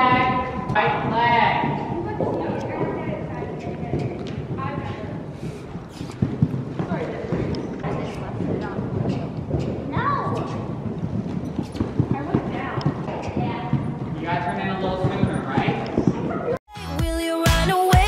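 Horse hooves clip-clop in a steady rhythmic beat during a group riding lesson, close and clear throughout, while voices talk and give instructions over the footfalls.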